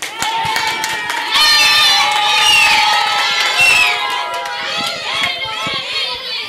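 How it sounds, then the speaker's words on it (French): School crowd of children at an international school in Tunis cheering and shouting loudly, a sustained roar of high excited voices with some clapping, swelling in the middle and then tapering off. "Applaudissez très fort."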